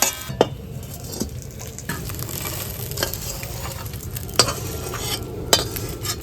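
Jujubes stirred in a pan with ginger, panch phoron and chillies for a jujube pickle: a steady soft sizzle with several sharp spoon clinks against the pan, close and alone.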